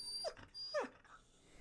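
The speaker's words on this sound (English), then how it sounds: "Sorry, my dog." A dog gives two short whimpering yelps with a low growl, close and fairly quiet, in a room during a live stream, with no speech over it.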